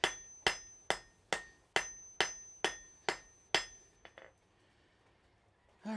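Hot metal is hammered on an anvil in a smithy: eight crisp, ringing blows at an even pace, then two quick lighter taps, each strike leaving a bright metallic ring that fades into quiet.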